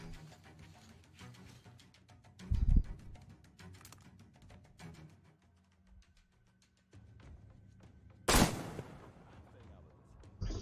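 Gunfire from a pirate camp shootout in the Taiga region of Metro Exodus, with two loud separate shot bursts several seconds apart over quieter rustling and game ambience.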